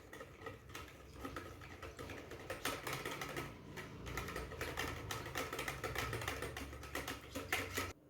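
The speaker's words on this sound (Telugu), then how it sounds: "తర్వాత ఈ విస్కర్తో ఇలా కలుపుకోవాలి" Salted water being whisked in a bowl, a rapid, close, rattling clatter of a whisk against the bowl, fairly quiet and continuous.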